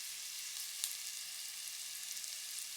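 Red onions fry in a pan over medium to medium-high heat, a steady, soft, close sizzle running throughout with no talking.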